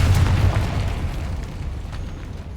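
A Confringo spell explosion in Hogwarts Legacy, a loud, deep booming blast that starts at full force and rumbles away over a couple of seconds.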